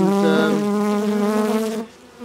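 An agitated honey bee colony, opened for a Liebefeld population estimate, fills the air with a dense, steady buzz heard up close. The buzzing stays loud and continuous, then briefly drops away near the end.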